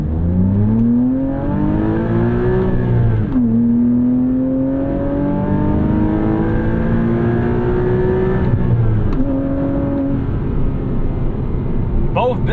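A 2006 Porsche Cayman S engine revs up steadily through the gears toward about 7,500 RPM, pitch climbing and dropping at each shift, loud and close throughout.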